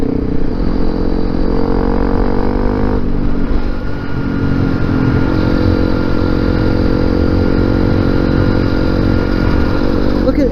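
A Honda CRF250L Rally motorcycle ridden along a fireroad, its engine droning loud and steady throughout with rough rumble from the bumpy surface.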